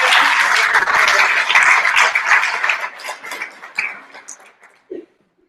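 Meeting audience applauding for the outreach team, a full, dense round of clapping that thins out and fades to a few scattered claps and then silence.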